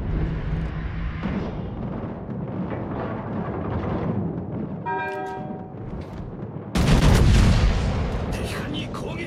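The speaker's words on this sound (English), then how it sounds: "Provide anti-aircraft fire support." Anti-aircraft guns on the USS Montana battleship in a naval combat video game fire in a dense, continuous rattle of rapid bursts, with a louder surge of blasts near the end and a brief electronic tone partway through.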